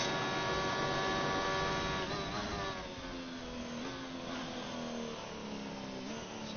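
A Ferrari Formula 1 car engine in the F1 2019 video game, racing at China, drones at high pitch with rising and falling revs through gear changes, loud and steady with no talking.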